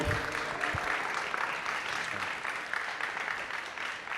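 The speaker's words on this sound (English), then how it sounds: "Give one more round of applause for these wonderful students." An audience applauds at a summer student jazz concert, a dense, steady wash of clapping that holds at an even level throughout with no break.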